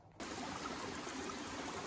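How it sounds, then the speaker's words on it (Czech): Small waterfalls tumble down a little stream, a steady, even rush of water close by that sets in abruptly and runs on without a break. "teď jsme narazili na takový mini vodopády. Takový jako po sobě potůčku"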